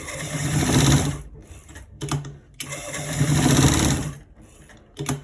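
Stitching a trouser's left front pocket, a sewing machine runs in short start-stop bursts, its motor whirring up, halting briefly, then running again close by, with no talking.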